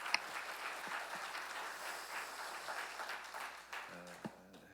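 Congregation at an early-morning special prayer service in a church applauding the praise team, steady clapping throughout at moderate level in a large room.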